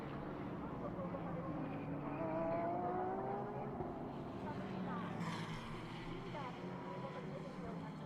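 Race cars lap the Fuji circuit during a Japan Cup race, their engines droning steadily with rising and falling pitch as they pass, while a commentator talks over them.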